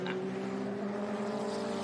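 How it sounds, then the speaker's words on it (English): At a vintage motorsport race at Laguna Seca, a Mazda race car engine screams at high revs in the distance, a steady, droning wail. "And I can hear that Mazda screaming away in the background."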